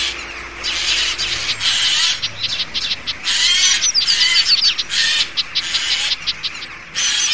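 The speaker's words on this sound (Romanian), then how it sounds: "păsărelele l-au descoperit și au dat alarmă, atrăgând atenția unui gai" Small birds give sharp, repeated alarm calls in a rush of chirps, with a jay's harsher call joining them. The calling comes in close bursts that fill the clip, with no talking.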